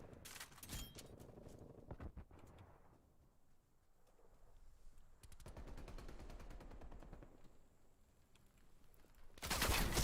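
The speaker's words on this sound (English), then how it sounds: "That dude just spent a whole mag trying to kill me." Gunfire in the shooter game Call of Duty: Black Ops Cold War: sharp single shots, a long rattling automatic burst emptying a magazine, and another loud burst at the end, with quieter stretches between.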